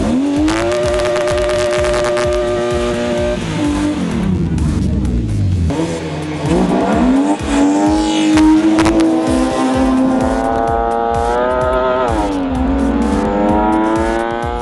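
Drag racing cars, including an Acura RSX, roar through sustained high revs with rising and falling engine pitch across gear changes, loud and close, with a brief dip midway before the engine note climbs again.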